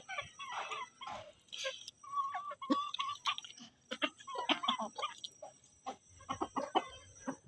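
Chickens in a village yard cluck and call in scattered, irregular bursts, fairly near, with a dog heard among them and no talking.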